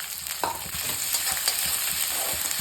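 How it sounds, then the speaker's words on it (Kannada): Onions fry in a pan for a Kannada-style egg flattened rice dish, giving a steady, dense sizzle with occasional stirring scrapes, close and continuous with no talking. "ಅದು ಹಸಿ ಹೋಗೋ ಥರ ಸ್ವಲ್ಪ ಫ್ರೈ ಮಾಡೋಣ."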